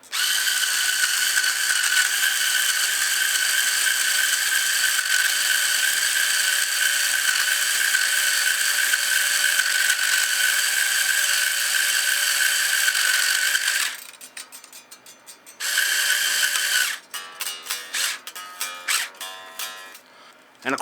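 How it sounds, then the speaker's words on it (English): A power string winder whirs steadily as it turns the tuners on an Ibanez RVX200 Rocket Roll guitar, a loud continuous motor tone that stops abruptly, followed by short ratcheting bursts and clicks of the tuner gears. "Grab the power winder"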